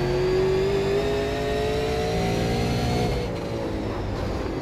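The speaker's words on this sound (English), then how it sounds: "it's making it sound like we're bottoming out" A Super Late Model race car in iRacing at Southern National, its engine droning loud and steady with a rising then falling whine, plus a faint scraping undertone as the car bottoms out. No one talks.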